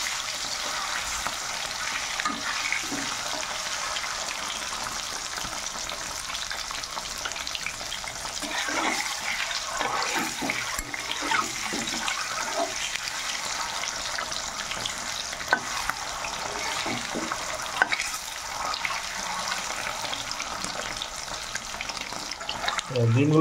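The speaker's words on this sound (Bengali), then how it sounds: "ডিমগুলো ফ্রাই হয়ে গেছে," Eggs frying lightly in a pan give a steady, fairly loud broadband sizzle throughout, broken by scattered pops and faint scraping, with no talk.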